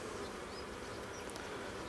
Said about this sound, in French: là, c'est plein d'abeilles